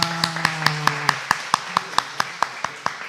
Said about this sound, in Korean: 우리 잠깐만 자리에서 일어나 주시면 우리 박수로 우리 환영하겠습니다